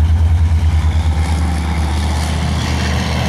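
Leopard tanks drive around at a tank show, their heavy engines rumbling loud and steady with a deep low throb and a slight pulsing rise and fall, no voices.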